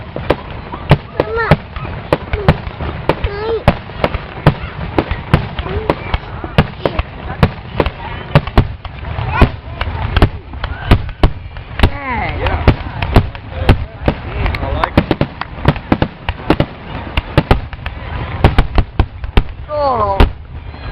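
Grand finale of a July fireworks show: a dense, continuous barrage of booming bursts and rapid crackling pops, loud and sustained for the whole stretch, with a few spectators' voices briefly mixed in.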